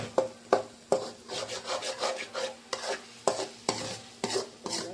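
Egg rice is stirred in a pot with a ladle, a series of close, regular scraping sweeps, about one every half second, over a light sizzle with no voices.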